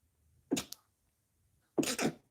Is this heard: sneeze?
yes